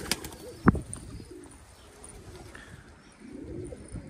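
Domestic pigeons coo softly in a loft, with low throaty calls rising a few times against a quiet background and a sharp tap near the start.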